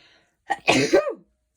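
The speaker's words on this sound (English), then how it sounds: "I got to sneeze." A single sneeze: a short breathy intake followed by a sharp, loud burst, close and alone.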